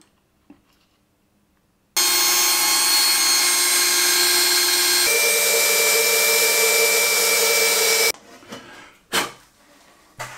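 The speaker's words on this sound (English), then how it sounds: "After drilling the holes" Power drill boring holes in 3D-printed parts for an E3D toolchanger upgrade, a loud steady whine running for about six seconds with a pitch shift midway, then cutting off into a few clunks.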